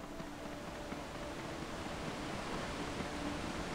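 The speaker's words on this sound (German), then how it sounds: "Ah, der Wasserfall." Waterfall in the video game Dark Age of Camelot, a steady, even rushing wash of water that holds at the same level throughout, with no voices.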